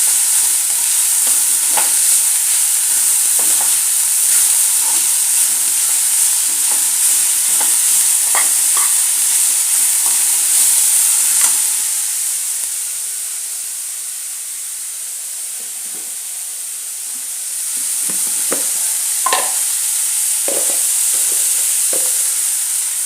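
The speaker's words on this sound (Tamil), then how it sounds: "கொஞ்சம் வதங்கட்டும். நல்லா தான் வதக்கும்." Momo filling sautéing in a hot pan makes a loud, continuous sizzle and hiss, with occasional scrapes and clinks of a stirring spoon. The sizzle eases briefly midway and then returns to full strength.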